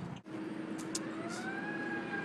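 An emergency siren wails somewhere down a street in Oak Forest, a faint, rising tone over steady traffic noise, with no talking.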